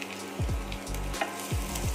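Ginger and garlic sautéing in oil in a pan, a close low sizzle with a few sweeping scrapes of a spatula at an uneven pace, brief and moderately quiet.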